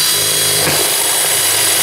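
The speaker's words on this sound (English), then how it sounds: "Drill a hole right on through it." A loud, steady power drill whine grinding continuously through a 2.5-inch hard drive, close up and unbroken.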